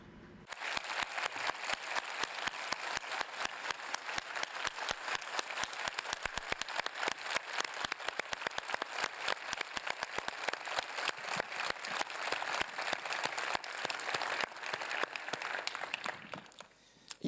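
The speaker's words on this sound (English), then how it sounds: "So the round of applause goes to him." An audience at a RootedCON 2018 security conference talk breaks into sustained applause, dense overlapping claps filling the hall for about sixteen seconds before fading out at the end.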